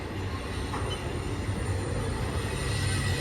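BNSF Z trailer freight train at Cajon Pass, a continuous heavy rolling rumble of rail cars with faint high wheel squeal, steady and fairly close.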